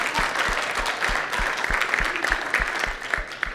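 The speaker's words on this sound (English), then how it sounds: "All right, clap." An audience at a summit clapping steadily for several seconds, a dense patter of hands with a few louder individual claps standing out near the front.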